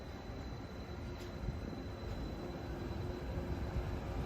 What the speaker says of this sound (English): Monorail! Mark 7 model.